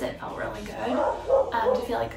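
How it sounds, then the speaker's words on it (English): A neighboring dog barks a few times in the background of a home yoga session, under close talking. "that's my neighbor's dog"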